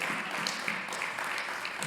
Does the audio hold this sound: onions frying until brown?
no